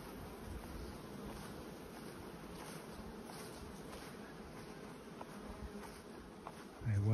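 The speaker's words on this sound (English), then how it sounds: "Lots of bees in these boxes." A steady, dense buzz of many bees in hive boxes, soft and enveloping, continuing without pause; a faint thump near the end.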